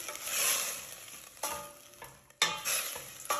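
Garlic, spinach, oregano, black pepper and salt get stirred in a pan, giving a soft sizzle with a few sharp scrapes and clacks of the spoon, no talking.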